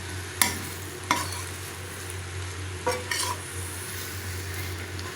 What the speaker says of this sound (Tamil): நல்லா கலந்து விட்டுறலாம்.